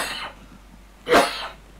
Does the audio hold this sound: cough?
yes